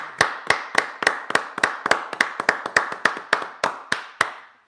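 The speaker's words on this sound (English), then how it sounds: "Let me give him a round of applause." A small live crowd at a Las Vegas bar gives a round of applause, heard as steady, evenly spaced claps close by, about fifteen sharp hits over several seconds with no talk.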